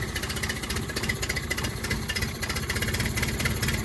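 A Yamaha 9.9hp/15hp outboard motor runs steadily at close range with a dense, throbbing mechanical rattle and a slight rise as throttle is added, with no voices.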